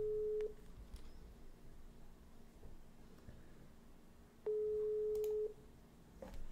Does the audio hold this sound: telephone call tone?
yes